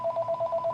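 A landline telephone rings indoors in short repeated electronic chirps, about seven evenly spaced pulses in quick succession, clear and fairly loud.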